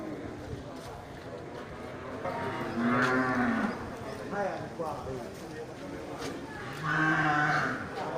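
Brahman-cross cattle moo twice, low and drawn out, over steady outdoor background noise with other livestock nearby at a livestock sale.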